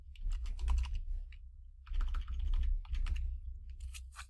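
Keys clack on a computer keyboard in two quick bursts of typing separated by a short pause, close and fairly quiet.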